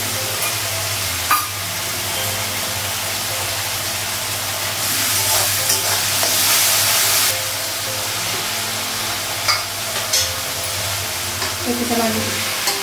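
Spice paste with papaya sautéing in a pan during home cooking, a steady close sizzle and hiss with stirring scrapes and occasional clinks, swelling louder for a couple of seconds midway before settling.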